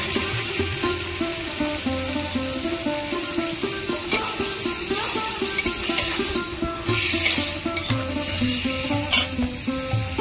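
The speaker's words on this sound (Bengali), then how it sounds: "আলুটা আমি এই গ্রেভির মধ্যে ভালো করে কষিয়ে নেব।" Potatoes frying and being stirred in an oily gravy for ghugni: a steady, close sizzle runs throughout, broken by repeated scraping and clattering strokes of the spoon against the pan.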